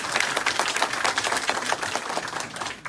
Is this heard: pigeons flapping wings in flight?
no